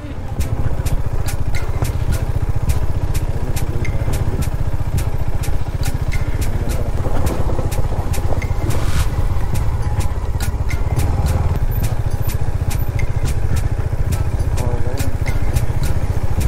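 A KTM Duke 250 motorcycle rides off-road on a rough track during a Delhi-to-Shimla trip. Its engine drones loud, close and steady throughout, with a fast, even rumble.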